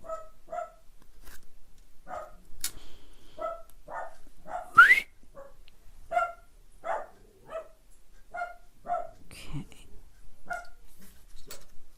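An indoor dog barks repeatedly in short, sharp yaps at a knock on the front door, spaced irregularly and heard at moderate distance with no other talk.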